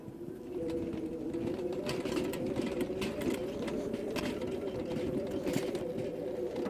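A Mowrator remote-controlled mower tows a Vevor garden cart carrying a person, its electric drive whining steadily at close range while the wheels spin with gritty scuffing bursts, and no one speaks.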